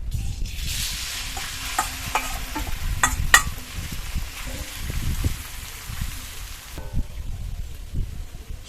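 Marinated taro stolons drop into medium-warm oil in a pan, sizzling and frying steadily with a few stirring clatters, close and moderately loud, the frying dying down near the end.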